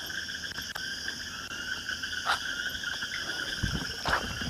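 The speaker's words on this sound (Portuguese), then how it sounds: "Só ouve barulho de grilo" Steady chorus of crickets chirping at night beside a road, high-pitched trilling bands continuing throughout, with faint low rustles and a few soft croaks underneath.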